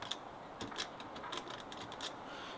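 Code entered on an Elemake keyless mechanical keypad lever lock: a string of light plastic clicks and taps, close and faint, irregularly spaced over steady background hiss.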